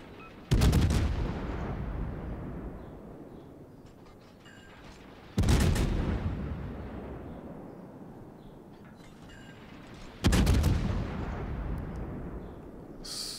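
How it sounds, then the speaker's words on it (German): Naval guns fire in a World of Warships battle: three heavy booming salvos about five seconds apart, each a loud broadband blast rolling off into a long decaying rumble, with no talk. "er kann hier gerade schießen nach Belieben"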